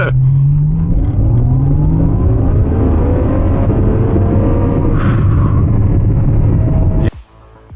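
A Ferrari 812 Superfast's V12 pulls hard away from a red light, a loud close roar climbing through the revs in one long sustained surge before cutting off abruptly near the end.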